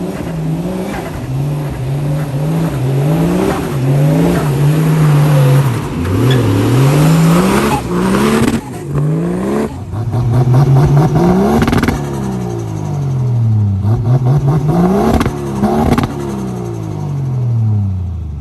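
A Nissan GU Patrol engine revs hard off-road, rising and falling in repeated bursts of acceleration with a loud, close rumbling exhaust and no talking.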